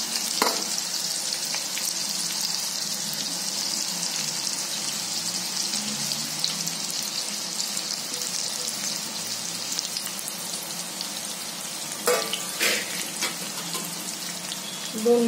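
Masala-stuffed whole bitter gourds frying in a pan, a steady hissing sizzle that holds throughout, with a few brief clatters near the end, close and moderately loud.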